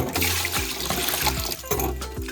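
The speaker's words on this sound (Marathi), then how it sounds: "ही पाण्यात धुवून घ्यायची मस्तपैकी" Water sloshes and splashes continuously as fenugreek leaves are swished around in a full basin, with steady trickling throughout.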